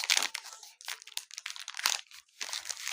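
A chocolate wrapper crinkles and crackles close by in quick, irregular bursts as it is worked open, with brief pauses between the crunchy rustles.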